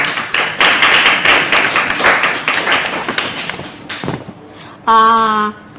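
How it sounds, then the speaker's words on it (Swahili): Audience applause at an intergenerational discussion on culture, a dense stretch of many hands clapping that thins out and stops, followed by a brief loud tonal sound near the end. "Mjipigia makofi."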